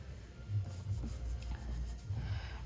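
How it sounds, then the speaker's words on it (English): A pencil eraser rubs highlights out of a graphite drawing on paper, giving close, soft scrubbing strokes in an uneven back-and-forth rhythm, with no talk. "I'm going to take my pencil eraser, and I'm just going to start erasing the highlights out."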